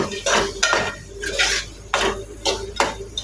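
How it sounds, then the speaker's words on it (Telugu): Cucumber curry is scooped from a pan into a bowl with a metal spoon. There are several sharp clinks and scrapes of metal on metal in an irregular rhythm, close up and with no talking. "ఇది ఒక గిన్నెలో తీసేసుకోవాలి."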